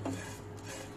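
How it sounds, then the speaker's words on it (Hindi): Spices and onion being stirred and roasted in a pan for a Konkani-style drumstick dish, with steady scraping and clinking of a spoon against the pan and a faint sizzle underneath. "ये देखो, इतना भुनने का, खुशबू आने तक।"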